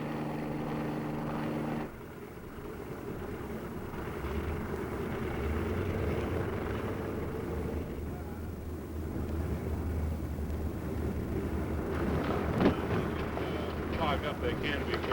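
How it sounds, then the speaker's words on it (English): Army training planes and helicopters fly over the Army Aviation School, an engine drone that holds steady and rumbles under a voice speaking most of the time, with a brief louder surge near the end. "the sky is dotted with training planes and the increasingly popular helicopters"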